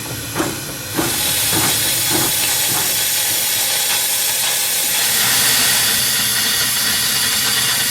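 A 1910 Stanley Type R steam car gives off a loud, steady hiss of steam that runs continuously, broken near the start by a few short knocks and puffs.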